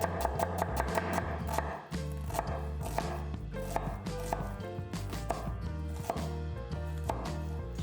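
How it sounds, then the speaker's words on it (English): Onions are finely chopped with a knife on a board. Quick, regular blade taps sound under steady background music. "Chop the onions finely."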